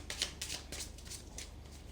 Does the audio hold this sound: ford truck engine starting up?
no